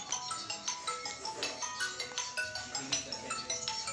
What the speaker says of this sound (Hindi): शायद आदरणीय आपका फोन आ रहा है